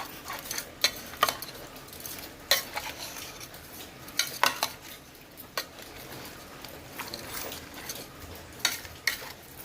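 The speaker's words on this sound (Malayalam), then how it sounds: "ഇതിനകത്ത് കുറച്ച് ഉപ്പിട്ട് കൊടുക്കാം ഇട്ട് വെച്ചിട്ട് മിക്സായി കൊടുക്കാം" A spoon mixing cut lemons with salt for lemon pickle in a bowl or pan, making soft irregular scrapes and sharp clicks against the vessel, close and fairly quiet, with no voices.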